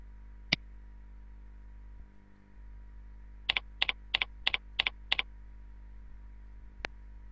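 A password is typed on a computer keyboard: a single isolated click, then a rapid run of about eight sharp keystrokes, and one final key press, all crisp and close in a quiet room.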